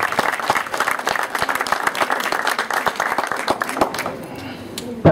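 Loud applause from an assembled crowd welcoming a district mayor at a community event on child growth and development, busy clapping that thins toward the end, with a voice or two heard faintly beneath it.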